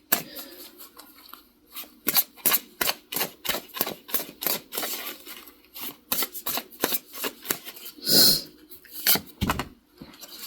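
Oracle cards riffle and slap together in rapid bursts of crisp flicking and shuffling, close and fairly loud, with brief pauses between runs.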